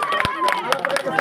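A small group claps in welcome at a wedding, scattered sharp claps close by with irregular timing, mixed with chatter and a sustained tone underneath.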